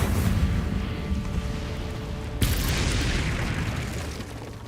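Incendio fire spell cast in the Hogwarts Legacy video game, a dense roaring rush that flares into a sudden bright burst midway and then sustains a loud fiery whoosh.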